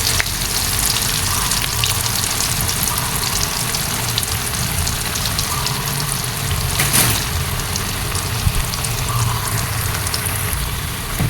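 Tempeh frying in hot oil sizzles with a constant dense crackle and a low bubbling undertone, close and loud, with one brief sharper burst partway through.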